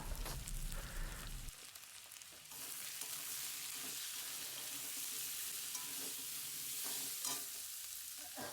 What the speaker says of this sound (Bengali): দিয়ে ভালো করে এটাকে নেড়ে নেব